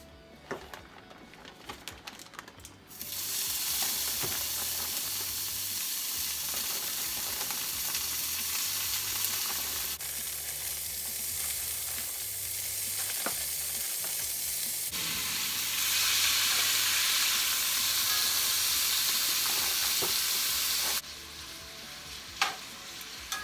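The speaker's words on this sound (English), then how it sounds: "Before you put your veggies into the skillet" Fajita vegetables sizzle and fry in a hot skillet with elk fajita marinade, a loud steady hiss that swells as they hit the pan and continues with occasional stirring clatter, no talking.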